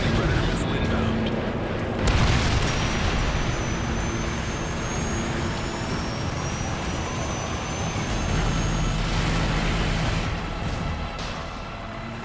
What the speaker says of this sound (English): Team, enemy air support is headed in from all directions.